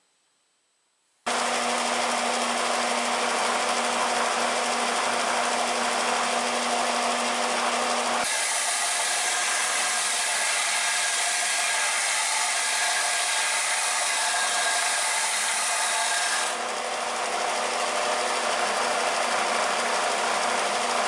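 A flatbed sander grinds the bottom of a wooden paring-knife handle flat down to the metal, giving a loud, steady, close-up whirring roar with a constant hum that runs about twenty seconds and shifts in tone partway through.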